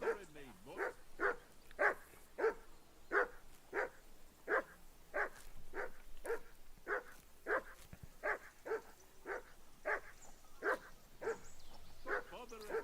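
A dog in Kingdom Come 2 barks over and over in a steady, evenly spaced run of sharp barks at moderate distance, with a faint background hum beneath.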